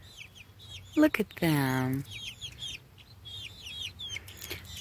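Young chicks peep and cluck continuously in an outdoor henyard, with a person speaking briefly over the birds.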